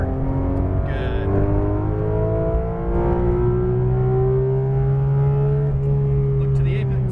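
Porsche GT2 RS engine pulling hard on a race track, a loud sustained rising whine and roar inside the car with steadily climbing pitch, while a voice coaches over it.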